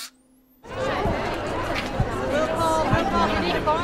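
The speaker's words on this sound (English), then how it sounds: "An overflow crowd gathers at the Libero Theater in Santa Barbara" Overflow crowd packed into the Libero Theater in Santa Barbara, a dense steady hubbub of many overlapping voices filling the hall, close and continuous after a brief quiet start.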